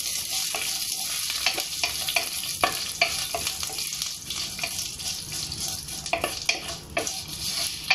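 Curry leaves fry with golden-brown onions and shallots in a pan, a constant crackling sizzle punctuated by frequent spoon clicks and scrapes from close up.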